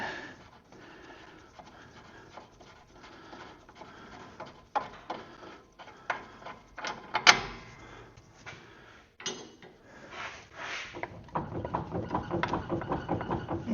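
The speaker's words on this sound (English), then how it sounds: "we can take off our upper bolt that holds on our backing plate" Upper backing plate bolt being removed from the front brake of a 1959 Edsel, with scattered close metallic clicks, scrapes and a sharp clank from wrench work, then a steadier rasping ratchet-like stretch near the end.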